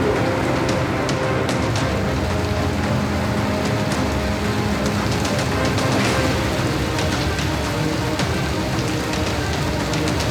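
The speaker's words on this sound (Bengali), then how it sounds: "আজ দুপুর থেকে যে তুমুল বৃষ্টির সঙ্গে ঝোড়ো হাওয়া এবং ঘন ঘন বজ্রপাত।" Heavy afternoon downpour with gusty wind on Kolkata streets: a dense, steady hiss of rain that stays constant and loud throughout, with scattered sharper drop impacts.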